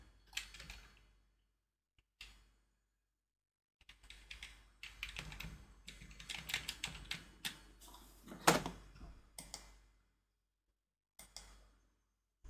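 Computer keyboard keys clatter in quiet, irregular bursts of rapid taps separated by short silences, close up and with no one speaking.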